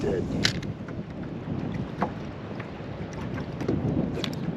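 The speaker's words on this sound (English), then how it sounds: "as you can hear that wind now is shocking" Strong gusty wind buffets a microphone while fishing from a boat for perch before rain, a steady broadband rush with a few sharp knocks and faint voices underneath.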